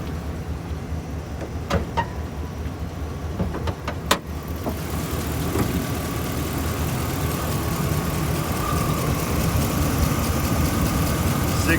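A 2013 Chevrolet 2500HD 4x4 work truck with a 6.0 V8 idles steadily and close by, a continuous low rumble with a few faint clicks early on and no talk over it.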